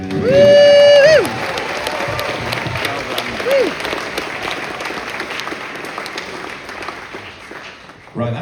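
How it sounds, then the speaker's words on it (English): A convention audience at a Red Dwarf cast panel claps in sustained, loud applause that fills the room, with a brief vocal whoop near the start, then settles into steady clapping before tailing off. "So give yourselves a round of applause."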